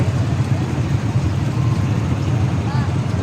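A motorcycle engine runs at a steady, rumbling idle close by on Samal Island, continuous and fairly loud throughout, with no clear talking.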